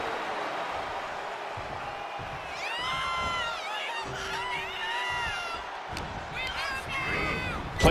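Crowd cheering and roaring throughout a WWE 2K25 video game wrestling match, a steady loud wash of voices with whoops rising over it, while a commentator talks on top.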